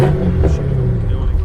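An 800 hp BMW M5 CS tuned by G Power revs with its exhaust valves closed, giving a muffled, deep rumble close by for a brief moment.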